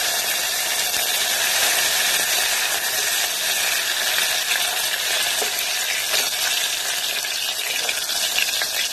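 Green chillies and coriander leaves sautéing in a pan for green tomato biryani, a continuous bright hissing sizzle with faint scraping, steady and close throughout.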